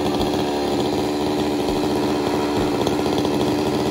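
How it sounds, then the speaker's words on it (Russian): A chainsaw cutting a tree, its small two-stroke engine droning steadily at close range, the buzzing tone holding fairly even with slight surges. "Одолжил бензопилу у дяди Коли Брошоу"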